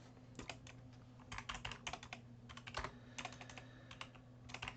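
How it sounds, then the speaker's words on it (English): Rapid bursts of keystrokes on a computer keyboard, clustered clicks with short pauses between runs, close and clear over a steady low electrical hum, no voices. "And then we just type an attribution in."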